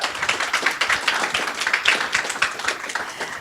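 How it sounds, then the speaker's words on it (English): A small group clapping in a boardroom, scattered individual claps forming a light, uneven patter at moderate distance with no speech over it. "give a round of applause,"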